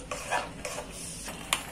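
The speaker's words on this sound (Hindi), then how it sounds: "छोटा गैस में ही इन्हें बराबर मिलाते हैं और भून लेते हैं" Mutton with yogurt is stirred and fried on a low flame for biryani; a soft background sizzle sits under a few quiet spoon scrapes and taps against the pot.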